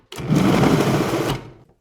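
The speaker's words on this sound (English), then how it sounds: "to speed along the cheese shredding process, I'm using my food processor." A food processor shreds mozzarella and Parmesan cheese, a loud steady motor whir that starts abruptly, runs for over a second, then cuts off and winds down, heard up close with no talking.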